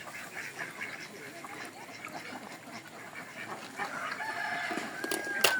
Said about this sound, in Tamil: உங்க சேவல் வந்துருச்சு.